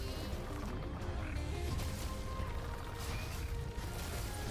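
Sheep bleats ring out in the action roguelike game Rogue Loops, layered over dense, continuous game music and mechanical effects that stay loud throughout.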